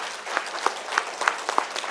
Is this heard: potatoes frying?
no